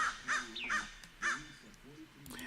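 A crow caws repeatedly in a recorded sound effect: loud, harsh calls come in an uneven series with short gaps between them.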